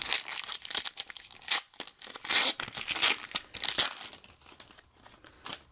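A Pokemon Roaring Skies booster pack wrapper being torn open, with sharp close foil rips and crinkling in short irregular bursts and quiet gaps in between.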